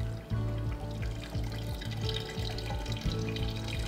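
About a gallon and a half of cold water pours over strained barley grains into a bucket, a steady close splashing trickle beneath a low rhythmic hum.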